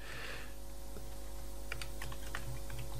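Typing on a computer keyboard while coding a PHP project: a quick, close string of light key clicks over a steady low electrical hum.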